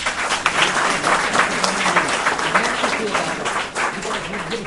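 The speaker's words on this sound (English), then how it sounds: "You can clap now." A conference audience claps after a Nobel Peace Prize award is announced, a steady, fairly close wash of applause with audible individual claps throughout, sustained for several seconds.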